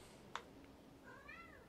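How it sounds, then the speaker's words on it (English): A domestic cat gives a single faint, rising-and-falling meow in a quiet indoor room, preceded by a brief soft click. "I hear a cat. I don't know if you heard that cat."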